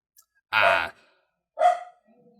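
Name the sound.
dog barking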